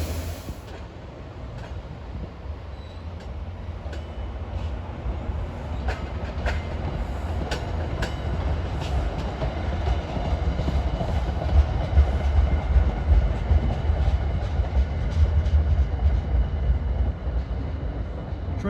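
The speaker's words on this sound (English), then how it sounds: "This is train 3256 en route from Long Branch to New York." An NJ Transit train, number 3256 from Long Branch to New York, pulling older single-level Comet cars through Rahway, a steady rumbling pass with a low hum and faint rhythmic wheel clicks.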